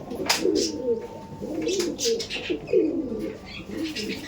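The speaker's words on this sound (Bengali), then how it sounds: "মেল পায়রা স্ট্যান্ডিং দেখো, ঠিক আছে? এই হচ্ছে মেল, এই চলে গেল ফিমেল" Kaldom pigeons in a loft coo close by in repeated low, rolling calls, several phrases overlapping with light rustling in the background.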